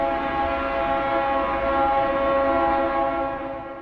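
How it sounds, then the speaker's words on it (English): An EMD GP38-2 diesel locomotive, built in 1978, blasts its horn in a long, steady, chord-like tone close by, fading slightly at the end, on a scenic railway through the Lehigh Gorge. "This locomotive is a GP38-2 built by EMD in 1978 for Conrail."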